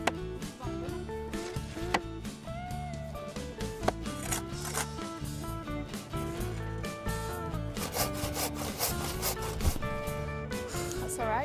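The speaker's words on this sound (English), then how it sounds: "I think Raj really seemed to enjoy the sawing" Continuous rasping strokes of a hand saw cutting wood on an outdoor conservation volunteering job building steps, repetitive and close, with voices faintly in the background.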